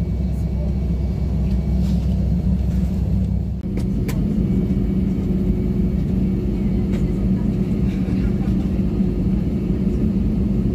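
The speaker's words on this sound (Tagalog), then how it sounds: "Proceed for takeoff, please." Airliner engines rumble steadily in the cabin before takeoff on a flight from Dubai to Bahrain, a loud, constant low drone with a brief dip partway through and faint cabin sounds over it.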